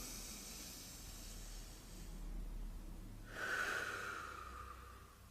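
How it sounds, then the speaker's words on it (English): A slow, deep breath drawn in and released near the microphone during a guided group meditation, a soft hissing inhale swelling after a quiet stretch, with no talking. "So let's take a deep breath and just feel connected to all things as that vibration flows through us."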